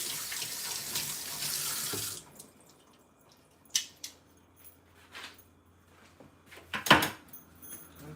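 Tap water gushes steadily into a sink while vegetables are washed for a stir fry, then cuts off, followed by a few scattered clunks and knocks of kitchen handling nearby.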